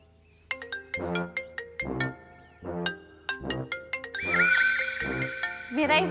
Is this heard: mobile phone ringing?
yes